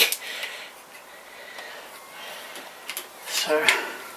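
A bicycle brake on a Claud Butler bike rubs and squeaks as it is adjusted, giving a few short scraping sounds and then a brief, higher-pitched squeal near the end.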